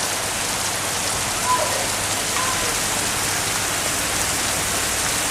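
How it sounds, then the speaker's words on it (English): Heavy rain pouring during a thunderstorm over Oxford, a dense steady hiss of rainfall filling the whole span, loud and continuous with no voices. "the rain is very heavy now"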